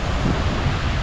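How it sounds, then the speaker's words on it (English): A stream runs through a hill valley in Northumberland, giving off a steady, close rushing wash of water with a constant low roar and no breaks. "There's the stream,"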